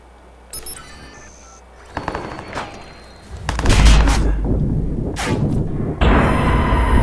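Gunfire in the Watch Dogs video game comes as loud, close bursts of shots and heavy booms, with dense rapid volleys in the second half mixed with synthetic interface tones.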